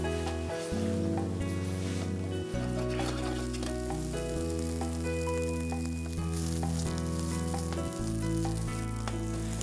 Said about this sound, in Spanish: Vamos a saltearlos un poquito. Ponemos un chorrito de aceite